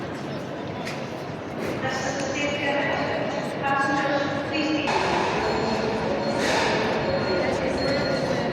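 Interior of a train on the ride from Largs to Glasgow, with a steady rumbling rail noise throughout, some clinks and tonal squeals over it, and people talking inside the carriage.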